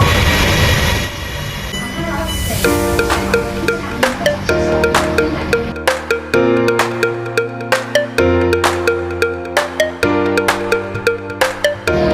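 Inside a moving electric train, a low rumble carries rhythmic clacks of wheels over rail joints, with occasional tonal whines and squeals.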